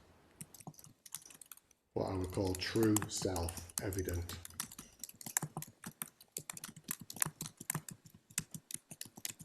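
Rapid, irregular clicking of computer keyboard keys runs throughout, with a person speaking briefly partway through over the typing.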